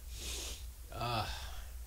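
A single short, wet nasal sniff close to the microphone, standing out briefly over a steady low background hum.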